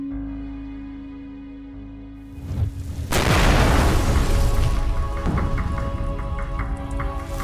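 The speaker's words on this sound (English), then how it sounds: "Things are blowing up without any shots fired." Things blow up in a battle scene with a battle cruiser: a deep rumbling build gives way to a loud booming blast, followed by sustained roaring crackle and debris, dense and close with no talk.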